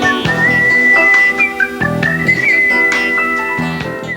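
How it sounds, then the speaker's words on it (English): A person whistles a bright melodic tune, loud and close, with sustained and gliding notes over a steady accompaniment of music, and no talking. "That's some good whistling."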